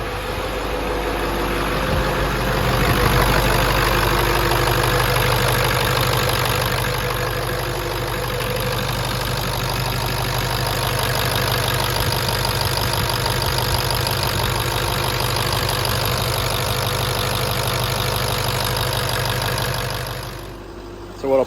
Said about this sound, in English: This already sounds better idle.